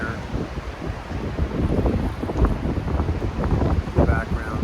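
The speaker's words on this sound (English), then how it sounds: "Today the wind is blowing a little bit." Gusty wind blows across a hilltop at Hollywood Cemetery, a historic graveyard above a river, as a steady, fairly loud rumbling roar on the microphone that swells and buffets throughout.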